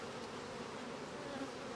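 Honey bees drone continuously at an open hive full of brood, a close, even buzzing with no voices.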